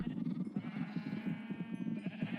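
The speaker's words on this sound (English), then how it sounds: "You just feed all the sheeps." Minecraft sheep bleat over and over in a steady, close chorus, many overlapping calls pulsing along without pause while a pen of sheep is being fed.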